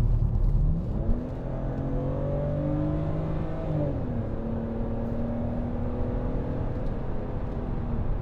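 A 2011 BMW Z4 sDrive23i roadster accelerates hard from inside the cabin, its engine rising steadily in pitch through the gears with a brief dip at a shift, loud and continuous with no talk.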